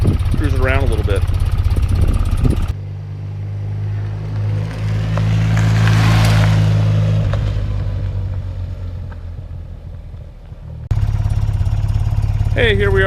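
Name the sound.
1993 BMW R100GS motorcycle engine running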